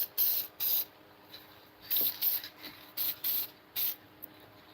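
A spray can hisses onto wooden hoop earrings in a series of short, close bursts of varying length with brief pauses between them, no talk.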